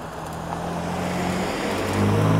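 A BMW car passes close by, a steady engine and road rumble with a low hum that swells slightly louder toward the end, with no talking over it.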